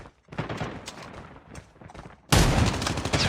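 Gunfire in Call of Duty comes in two loud bursts, a rattle of shots followed by a sharper, louder blast late in the clip, close and without speech.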